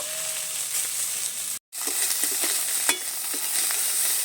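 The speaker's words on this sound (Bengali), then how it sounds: "চুনো মাছগুলোও ভেজে নেব।" Small fish fry in hot oil with a loud, dense, steady sizzle and a few crackles, close up; a brief dropout breaks the sound midway, and no one speaks.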